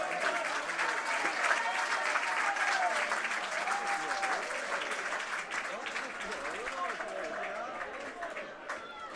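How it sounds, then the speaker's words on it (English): A rugby league crowd at the Ortus Rec in Whitehaven applauds during a Championship match against Trinity, sustained clapping across the stands mixed with crowd noise and a commentator talking over it. "a good round of applause for Tommy Doyle"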